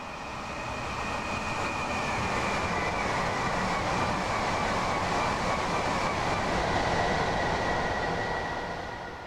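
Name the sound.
train running in Train Sim World video game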